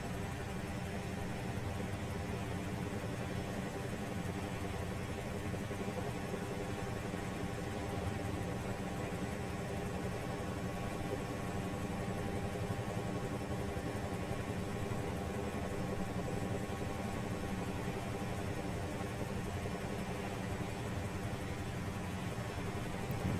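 A steady, droning twin-engine helicopter engine and rotor roar, sounding like a Huey, fills the cabin in flight, constant and unbroken throughout with no talking.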